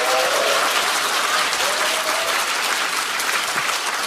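An audience at a Korean political talk event bursts into loud, sustained applause, dense clapping filling the hall throughout with no break.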